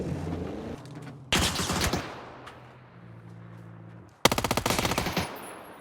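JS-9 gun firing in a video game, with two rapid bursts of closely spaced shots, the second a clear rattling volley, loud and near, over quiet game ambience and no talk.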